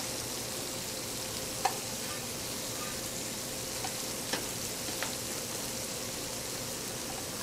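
Shrimp sizzle steadily in a frying pan, a faint, even hiss with a few soft clicks of utensils against the pan and no talk.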